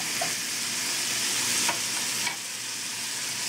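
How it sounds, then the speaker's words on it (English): Canned pumpkin is stirred into a sloppy joe mixture in a hot pan, with a steady, close sizzle and soft scraping strokes throughout. No one speaks. "stir in our canned pumpkin."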